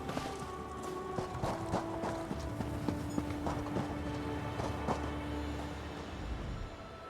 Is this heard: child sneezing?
no